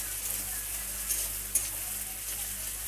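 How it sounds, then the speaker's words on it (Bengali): Chopped onions frying in oil in a pan, a soft steady crackling sizzle with a couple of faint stirring taps, quiet and close over a low background hum. "পেঁয়াজ কুচিটা এর মধ্যে আমি দিয়ে ভালো মতন এইটাকে এবারে ভাজা ভাজা করব"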